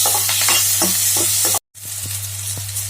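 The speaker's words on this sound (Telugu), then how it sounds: "ఆనియన్స్ ఫ్రై అయిన తర్వాత గ్రీన్ చిల్లీ కర్రీ లీవ్స్ వేసుకోవాలి. 1 మినిట్ ఫ్రై చేసుకోవాలి." Green chillies and curry leaves fry with onions in hot oil for boti fry: a loud, steady close-up sizzle with stirring scrapes and a very short break partway through.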